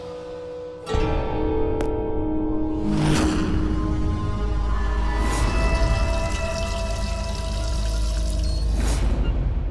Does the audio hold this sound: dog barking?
no